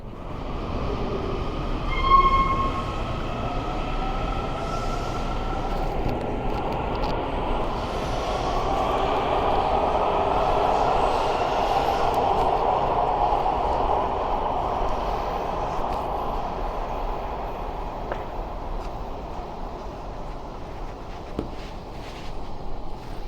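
A train rumbles through a station, its roar swelling and lingering with a brief horn note early on and faint metallic squeals as it passes.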